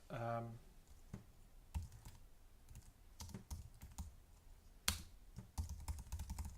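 A unit name is typed on a computer keyboard for a nightlight setup, with soft, close key clicks coming in irregular bursts and short pauses.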